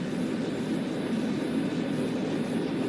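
A propeller airplane engine drones steadily as a radio drama sound effect, a constant, even hum filling the whole stretch with no voices over it.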